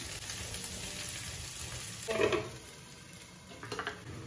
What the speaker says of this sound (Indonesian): Mari kita masukkan daun bawang dan bawang bombay